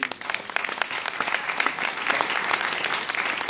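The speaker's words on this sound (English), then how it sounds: "please give her another round of applause" Applause from an audience at a panel event, lively clapping that swells and holds steady throughout, loud and continuous with no speech over it.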